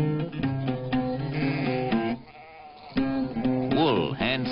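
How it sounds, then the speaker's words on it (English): Black goats herded by nomads in 1960s Turkey bleat repeatedly, several wavering, nasal cries overlapping one after another, loud and close with a brief lull midway. "The black goats have helped to erode the hillsides, but they provide milk and meat for the nomads who herd them"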